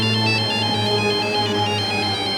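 A phone ringtone playing loud and close, a steady electronic melodic ring that continues throughout.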